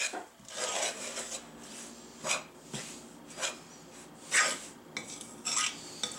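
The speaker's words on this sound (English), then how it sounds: "I'll go in with my hands and just knead the dough" Pizza dough kneaded by hand at home: quiet, close rubbing and pressing sounds in uneven bursts, with no speech.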